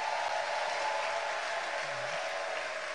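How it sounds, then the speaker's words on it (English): An audience at an African entrepreneurs' forum applauds the president of Kenya, a steady, continuous wash of clapping from a large crowd, moderately loud and even throughout. "Shall we clap for the president of Kenya?"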